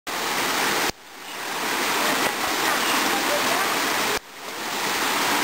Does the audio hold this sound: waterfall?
yes